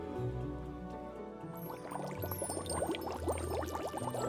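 The fizz flower from a Magic Mixies toy set fizzes in the cauldron with a steady, close bubbling and crackling hiss, bright popping bursts growing busier over a low hum.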